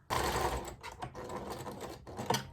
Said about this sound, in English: I am just double stitching at the start and the end of every seam